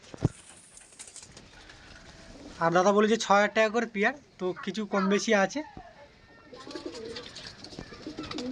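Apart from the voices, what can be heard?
pigeons cooing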